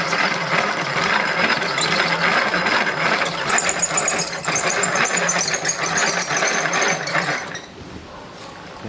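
Dowel making machine turning a wooden dowel, a continuous loud rattling, grinding mechanical drone with dense chattering texture that drops away near the end.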